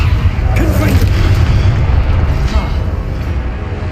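Confringo blasting curse detonating in Hogwarts Legacy, a loud booming blast with rumbling low end that rolls on for several seconds amid continuous battle noise.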